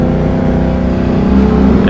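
A Can-Am Renegade ATV engine drones loud and close at steady held throttle while towing another ATV, its deep hum rising slightly toward the end.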